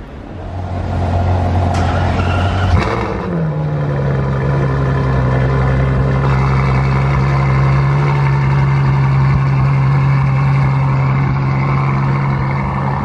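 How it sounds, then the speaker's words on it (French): A Ferrari fitted with a Novitec exhaust revs up as its valves open, shifting from a steady rumble into a louder, deeper drone that holds for several seconds close by on a Monaco street. "vous avez entendu quand il a ouvert les valves"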